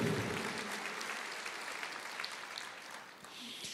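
A crowd claps steadily throughout, a dense wash of applause with no pauses, moderately loud and fairly close.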